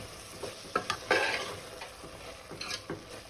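Vegetables for veg pulao frying in a pan while being stirred, with a steady sizzle and several clear scraping strokes of the spoon at irregular intervals, close and moderately loud, no talking.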